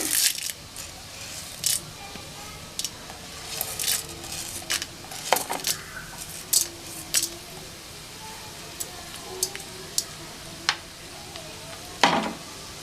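Mustard seeds and urad dal crackling in hot oil in a pan, sharp scattered pops and spits over a faint sizzle, close and irregular, with no voices.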